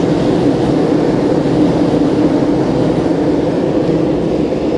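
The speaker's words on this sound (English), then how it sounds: "That's a train going across the harbour bridge." A loud, steady rumble of a train crossing a harbour bridge fills the scene, a dense continuous roar without pauses or voices.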